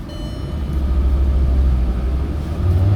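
A VW Transporter 8+1 with a 2.5 TDI 170 hp diesel engine idling after starting, a loud, steady low rumble that swells slightly near the start and again toward the end.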